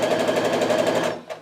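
Sewing machine stitching a quilt block: a quick, even run of rapid needle taps up close, stopping abruptly after about a second with one last tick.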